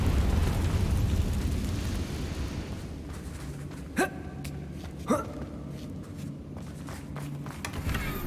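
Hogwarts Legacy's Confringo fire spell fires twice, each a sharp, short whooshing crack about a second apart, over a soft, hissing game backdrop.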